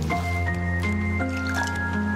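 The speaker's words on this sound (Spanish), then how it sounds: "Ahora lo que tenemos que hacer es llenarlo de agua." A water container filling in the survival game Raft: a short liquid squish and drip effect over steady game music and tonal hum, with a brief sloshing texture, no talking.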